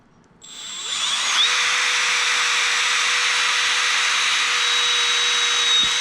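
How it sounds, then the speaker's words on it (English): A power drill bores the second hole in a deck chair, spinning up quickly into a loud, steady whine that holds for about five seconds and then eases off, with no talking. "Now we'll drill the second hole."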